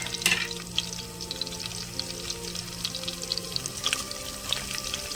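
Garlic frying in oil in a pressure cooker while a tomato dal tempering is made: a faint, steady sizzle with scattered crackles and soft clinks over a low kitchen hum, heard close with no talk.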